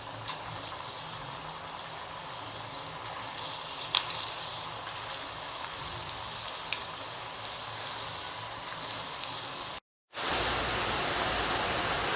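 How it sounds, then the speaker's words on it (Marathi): Sweet corn pakoras frying in hot oil in a kadhai over medium heat give a steady, even sizzle with faint pops, close and unbroken for about ten seconds, then a brief cut and a louder hiss. "त्यात आपण पकोडे तळून घेऊ।"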